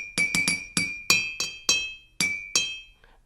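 Glasses clink together in a holiday Christmas toast, about nine bright ringing chinks in quick, uneven succession, close and clear, with no voices over them.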